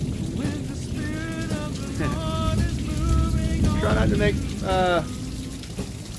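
Heavy rain pours down in a massive thunderstorm, a dense steady roar of drops on surfaces throughout. Someone talks over the downpour.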